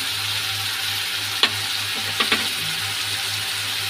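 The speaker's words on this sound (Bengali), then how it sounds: "জিরেটা দিয়ে দেবো, হলুদটা দিয়ে দেবো, বেশি ভাজলেও অসুবিধা হয়। কাঁচা লঙ্কা দিয়ে দেবো দুটো" Cumin, turmeric and two green chillies frying in oil give a steady, close sizzle, with a few brief stirring clicks and scrapes partway through and no talk.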